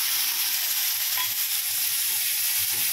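Chopped garlic and chilli fry in hot oil over a lit gas flame, giving a steady, close, bright sizzle and hiss throughout with faint stirring.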